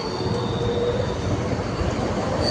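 A train rolls past near Hyderabad with a continuous, fairly loud rumble of wheels on rails and a faint high metallic squeal running throughout.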